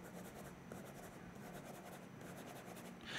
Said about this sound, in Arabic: بدي اكتب على ورقه